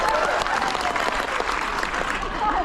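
A cruise ship audience claps continuously in a dense, even patter of many hands, with faint crowd murmur mixed in underneath.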